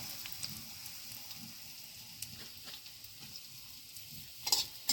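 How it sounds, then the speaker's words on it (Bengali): Finely minced ginger and garlic frying in a pan, a faint steady sizzle with soft scraping stirs and a few louder clinks toward the end; no talking. "আদা রসুনটা একটুখানি নেড়ে নেবো"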